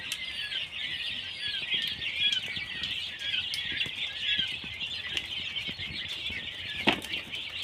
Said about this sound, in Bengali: দেখতে পাচ্ছেন আপনারা বাইশ দিন বয়সের কোয়েল পাখি